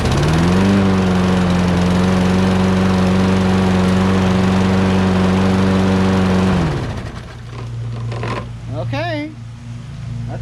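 A Toro Recycler auto-choke lawn mower engine fires up and runs loud and steady at close range for several seconds, then cuts out, leaving quieter background noise and a brief voice.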